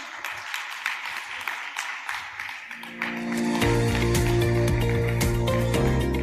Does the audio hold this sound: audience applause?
yes